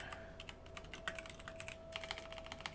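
A computer keyboard clatters with quick, irregular keystrokes, fairly close and quiet, in short bursts with brief pauses between them and no talking.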